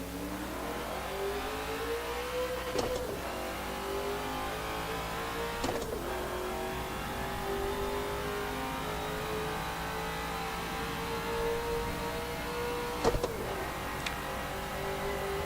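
A race car engine at Bathurst in Forza Motorsport 7 drones steadily and climbs in pitch as it accelerates, with a few sharp shift or clunk transients, loud and continuous, with no voices.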